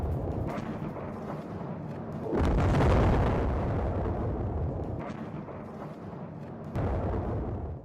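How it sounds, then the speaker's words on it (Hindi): Bombing of a bridge in Karaj, Iran, heard in news footage: a continuous loud rumbling roar with a heavier blast swelling mid-clip and further booms later, harsh and sustained with no voices. "अमेरिका और इजराइल ने की है ब्रिज पर बमबारी।"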